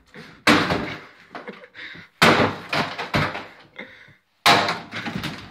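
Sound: sledgehammer smashing a wooden door

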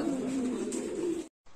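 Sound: pigeons cooing

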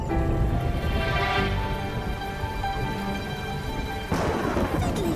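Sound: rain falling

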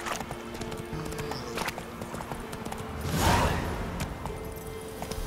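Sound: horse Roach galloping in video game The Witcher 3

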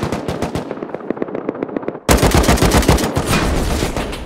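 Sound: gunfire in the video game Rust

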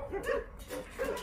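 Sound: Jindo dogs whimpering and yipping in kennel

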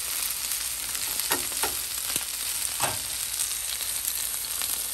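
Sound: chicken frying and sizzling in pan

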